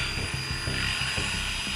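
A neighbour's leaf blower drones steadily with a high, whining motor tone and a rhythmic low pulsing underneath, continuous and fairly loud.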